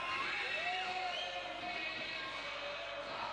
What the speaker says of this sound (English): The arena inside here getting loud.